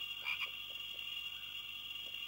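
A frog croaks a few times in Gold and Glory: Road to El Dorado, faint and close, over a constant high-pitched jungle hum.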